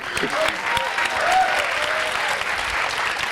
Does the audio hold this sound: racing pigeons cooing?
no